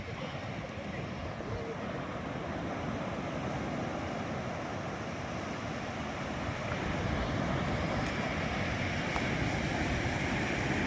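Sea waves wash steadily onto a shore where small boats are moored, with a constant broadband roar and some wind buffeting the microphone throughout.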